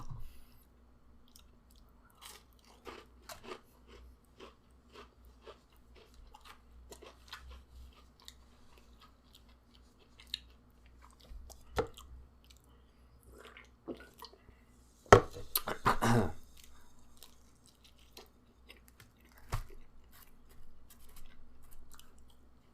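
Someone chews a crunchy slice of Papa John's cookie up close: scattered soft crunches and mouth clicks, with a louder burst of crunching midway through.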